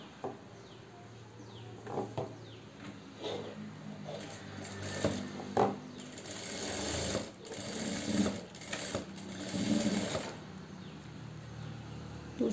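A sewing machine stitches two fabric pieces of a half-collar neckline together, its rapid mechanical whirring running in several bursts with short pauses between runs, close and moderately loud.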